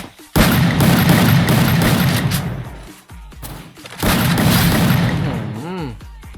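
A long shotgun fires in the mobile battle game Free Fire, giving two sustained, loud stretches of booming gunfire separated by a short pause, with voices talking in the background.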